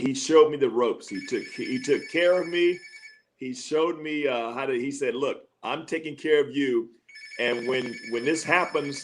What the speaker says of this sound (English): excuse the phone there.